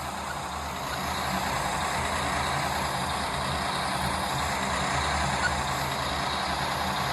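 A semi truck with trailer in a trucking simulator game backs into an alley dock, its engine droning steadily and loudly throughout, with no talking.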